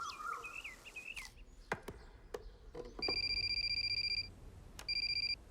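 A telephone rings in bursts of bright electronic tones, one long ring followed by a shorter one after a pause, heard over a party with dancing and background noise.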